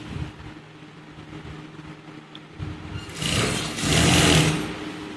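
Sewing machine stitching a fall onto a saree, a steady low hum at first and then a louder, faster whirring run near the end, close to the microphone.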